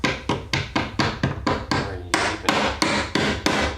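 Rapid, steady hammer blows ring out close by, about a dozen sharp strikes in an even rhythm with no talking.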